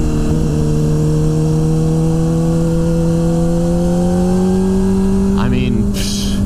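Honda CBR600RR motorcycle engine while riding, a loud close steady engine drone with a slowly rising pitch and wind noise throughout, and a brief sharper burst near the end.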